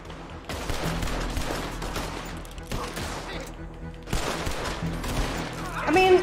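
Gunfire in Red Dead Redemption 2: dense volleys of shots repeat in bursts over steady game noise, loud and close, with a voice briefly heard at the end.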